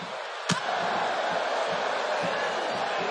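Arena crowd from the WWE 2K18 wrestling video game, a match between Alundra Blayze and Macho Man Randy Savage: a steady roar of cheering, broken by a sharp slam early on and softer thuds throughout.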